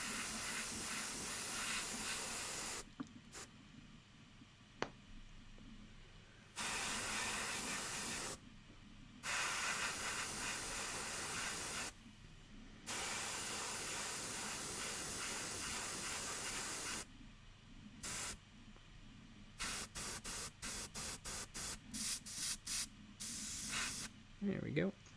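An airbrush sprays zenithal primer onto a miniature in repeated hissing bursts, long at first then quick short puffs, close and quiet, with occasional talk between.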